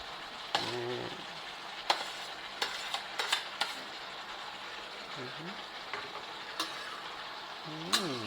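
Asparagus stir-fried with pork and onion flowers sizzles steadily in a hot pan, with scraping stirs and metallic spatula clinks at irregular moments and brief voice sounds in between.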